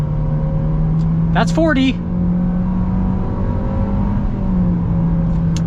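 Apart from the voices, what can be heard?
2021 Nissan Kicks SR car accelerating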